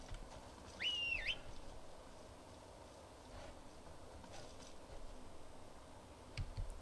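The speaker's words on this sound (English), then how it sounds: "Get my horse whistle up." A horse whistle call rings out once in the Skyrim video game, a short rising two-tone whistle over faint ambient outdoor sound, followed by quiet soft ticks.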